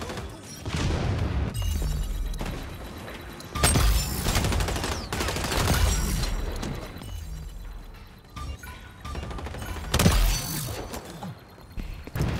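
Gunfire and grenade explosions in the video game XDefiant, with repeated loud volleys of shots and booming blasts rolling on one after another for the whole stretch.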